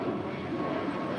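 Lufthansa Boeing 747 pushing back at LAX, a steady, broad engine rumble heard from a distance, constant in level throughout with no distinct peaks.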